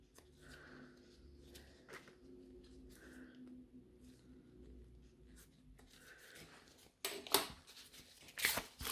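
Scissors cutting a piece of sponge for a nail job, a few quiet snips and soft rasps close by, ending in a louder burst of crisp cutting and crinkling.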